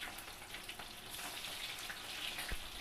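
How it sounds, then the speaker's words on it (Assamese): Fish pieces fry in a pan over a low flame, giving a soft, continuous sizzle with faint crackles throughout, quiet and alone with no voices. "এতিয়া মাছটো যিহেতু ফ্ৰাই হৈ আছে"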